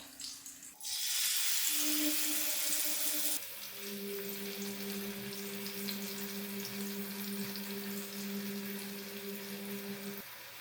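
Prawns hit a pan of hot masala paste, bursting into a loud hiss that settles into a steady continuous sizzle with a faint whine, close by and with no talk.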